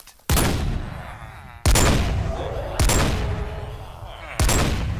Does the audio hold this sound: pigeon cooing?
no